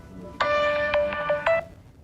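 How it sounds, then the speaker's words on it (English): A mobile phone rings during a lecture, a short melodic ringtone of bright repeated tones with a few distinct accents, fairly close and loud over quiet room tone. "I forgot to turn off my phone"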